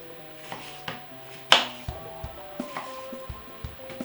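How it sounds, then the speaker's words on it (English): A kitchen knife slices through lemons on a cutting board, making repeated close, crisp chops at an irregular pace with one louder knock partway through. "let's go ahead and get our lemons cut and juiced"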